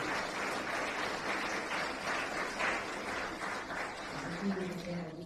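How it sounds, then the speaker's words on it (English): Conference audience applauding panel guests at a health economics event, steady sustained clapping heard from a distance, fairly faint, with some voices mixed in. "I think they deserve our applause."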